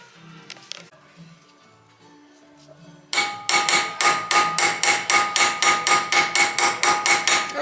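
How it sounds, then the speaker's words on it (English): Repeated hammer blows shape a metal ignition coil bracket for a 1964 Pontiac Bonneville, about a dozen sharp ringing strikes in an even, steady rhythm at close range, following a few seconds of quiet shop noise. "That's been a great hammer."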